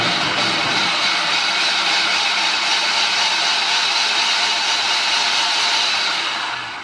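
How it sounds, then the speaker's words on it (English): A food processor blade chops cauliflower florets, a loud, steady whirring motor with a dense broadband roar that runs continuously for about seven seconds before easing off slightly at the end, with no talking. "I'm just scooping a little bit at a time into my food processor and I'm going to pulse it."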